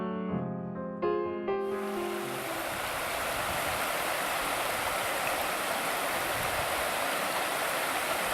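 The river Gradac rushing through its gorge: a few brief musical notes at the start give way to a steady, even wash of flowing water that continues unbroken to the end.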